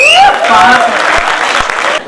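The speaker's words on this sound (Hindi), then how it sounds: "एक बार आप अपने लिए ताली पुनः बजा सकते।" An audience at a comedy poetry gathering applauds loudly and close, a dense wash of clapping, while a voice with a rising, sung tone carries over it at the start.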